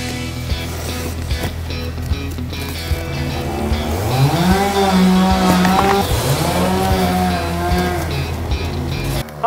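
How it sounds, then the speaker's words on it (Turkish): A power saw revs and whines loudly while cutting through stacked cardboard, its motor pitch rising and falling as it bites into the material, continuous and close. "Adamın elinde makine testere var ama."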